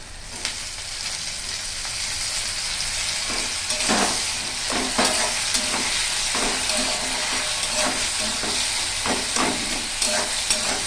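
Chicken kosha fries in a pan as tomatoes go in, giving a steady close hiss and sizzle broken by repeated scraping stirs and short spatters.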